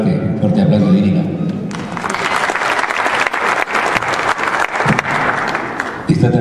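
Warm applause breaks out from the audience at a regional mayors' meeting in southern Peru, following a speaker's voice and holding as steady, dense clapping for several seconds before talk resumes.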